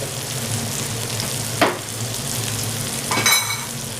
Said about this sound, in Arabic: واديهم بقى التقليبه الحلوه كده وخلاص